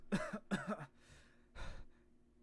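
A person coughs twice in quick succession, then after a short pause gives one more rougher cough, fairly close and otherwise quiet.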